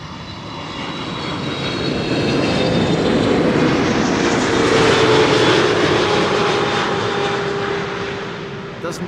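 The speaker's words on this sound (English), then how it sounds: "A 777 arriving from Atlanta" A KLM Boeing 777 on approach to Amsterdam Schiphol, its engine roar swelling to a loud peak midway and then easing off, with a steady whine running through it.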